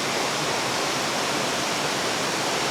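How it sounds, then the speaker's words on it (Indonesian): A cold lahar river flows below a wooden bridge near Mount Semeru, a steady, loud, broadband rush of water that stays constant throughout with no voices. "Dan ini aliran lahar dari Gunung Semeru, aliran lahar lahar dingin ya dari Gunung Semeru"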